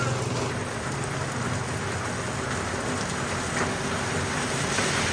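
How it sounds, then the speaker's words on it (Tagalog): Heavy rain pours in a dense, unbroken hiss of drops hammering nearby surfaces, loud and close, with no voices. "Lakas ng ulan ngayon."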